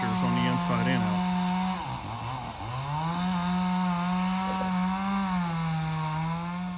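A saw notches wooden pilings for a boathouse, its steady, loud droning whine running throughout with a brief dip in pitch midway as the blade loads in the wood.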